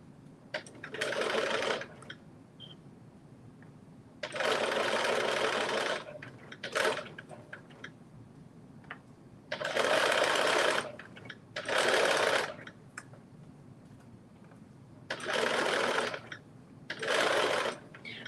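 A domestic sewing machine stitches slowly around a circular seam, running in short bursts of a second or two separated by pauses, its motor whirring clearly and fairly close with no talking over it.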